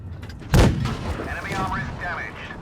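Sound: tank gun firing in World of Tanks Blitz video game

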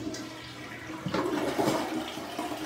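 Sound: toilet flushing

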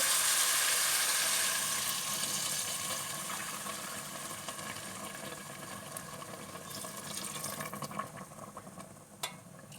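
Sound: pouring hot water into a pot

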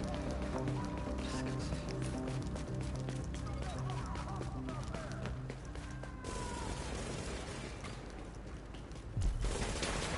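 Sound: sawed-off shotgun fire in video game

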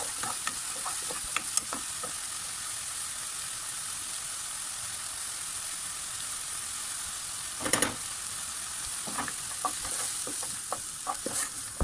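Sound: stirring and frying mushrooms with flour in a pan

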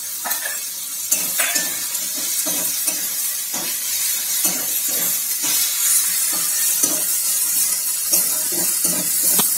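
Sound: garlic paste and ginger paste frying and sizzling

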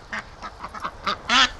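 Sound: ducks quacking

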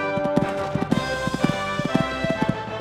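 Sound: horse hooves clip-clopping during horse trials

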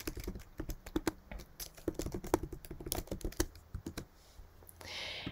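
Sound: typing on a computer keyboard

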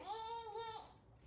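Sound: child imitating goat bleating

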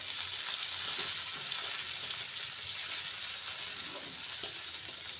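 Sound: stirring chopped tomato with ginger garlic in a pan

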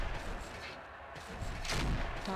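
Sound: mech cannon firing in video game MechWarrior 4

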